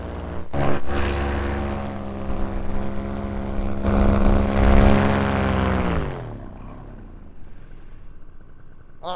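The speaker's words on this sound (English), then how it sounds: "Oh, that's a big plane." A big airplane flies past overhead, its engine drone swelling loudly to a peak, then dropping in pitch and fading quickly into quiet as it moves away.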